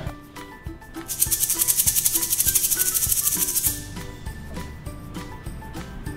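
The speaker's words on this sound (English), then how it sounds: "I hear the shaker." A shaker played alone as a children's instrument-guessing example, giving a steady run of quick bright rattling pulses for a couple of seconds over soft background music, then stopping.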